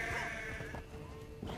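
Sheep bleating in Assassin's Creed Valhalla, a short, steady wavering cry heard close and alone against a soft game ambience.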